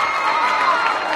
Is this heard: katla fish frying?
no